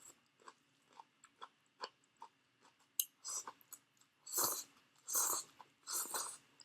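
Close, crisp crunching and chewing of cabbage during a vegetarian meal, a run of separate bites and chews that grows into denser, louder crunches, with no talking.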